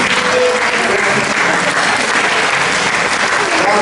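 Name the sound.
applause from the audience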